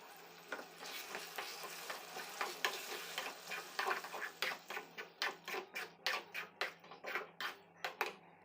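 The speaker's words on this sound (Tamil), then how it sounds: "நம்ம அரைச்சி வச்சுருந்த வெங்காயம் தக்காளி பேஸ்ட்டை அதோடு சேர்த்துக்கலாம். சேர்த்து நல்லா மிக்ஸ் பண்ணி விட்டுக்குவோம்." Onion-tomato paste is mixed into frying sundakkai in a pan for a tangy tamarind kuzhambu, with a soft sizzle under a string of brisk, even stirring scrapes close by that quicken toward the end.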